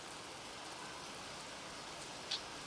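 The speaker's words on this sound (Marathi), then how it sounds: "गावी खूप पाऊस पडत आहे" Heavy rain falls steadily over a village in Oras, Sindhudurg, Konkan, as a soft, even hiss at low volume with a single faint tick near the end.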